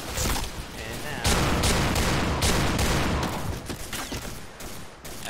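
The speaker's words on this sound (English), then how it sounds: "I don't know where people are at, but I'm just shooting" Dense, continuous gunfire from Piercing Blow, an online shooter game: overlapping bursts of rifle shots and booms that fill the mix, with a voice talking over the battle.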